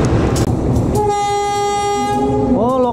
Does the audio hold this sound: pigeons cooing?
no